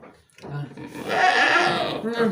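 A PE goat bleats on a goat breeding farm in Java. The close, strained cry runs for about a second and a half and is mixed with people talking nearby.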